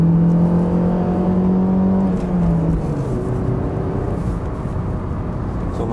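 A 1991 Mercedes 190E 2.3 W201 four-cylinder engine drones steadily from inside the cabin while being driven sportily through a couple of corners, its pitch dropping midway as the revs fall back, with no talking.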